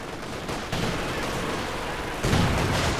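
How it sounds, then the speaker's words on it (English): Katyusha rocket barrage in Company of Heroes 2, a dense continuous roll of rapid launches and blasts that swells louder near the end, with no talk. "Using Katyusha barrage, I imagine targeting the machine gun."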